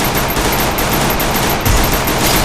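Gunfire in the Free Fire battle royale game, a dense continuous burst of rapid shots that stays loud and unbroken for the whole stretch, with no voice over it.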